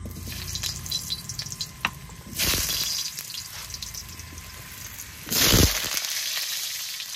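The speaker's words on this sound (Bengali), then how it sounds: "তেলটা গরম হয়ে গেছে, এবার আলুগুলো ভেজে নেবো।" Potatoes fry in hot oil in a home kitchen pan, a constant crackling sizzle with two sharp, loud bursts of hissing as more pieces hit the oil.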